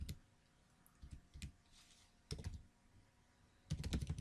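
Keys clatter on a computer keyboard as code is typed, short bursts of quiet clicking separated by pauses, with a faster flurry of keystrokes at the end.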